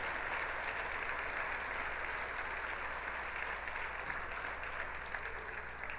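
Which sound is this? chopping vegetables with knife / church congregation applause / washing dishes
church congregation applause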